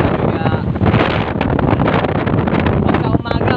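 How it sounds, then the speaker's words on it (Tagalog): Strong wind by the seashore near Mount Banahaw, Quezon, buffets the microphone in loud, continuous rumbling gusts that swamp everything else. "Napakalakas ang hangin mga ka-Shanky."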